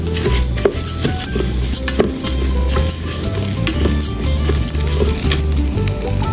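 Raw rice stir-fried in a pan with basil leaves and minced garlic for turmeric rice: close, continuous sizzling with repeated scraping and clacking of a spatula against the pan, no talking.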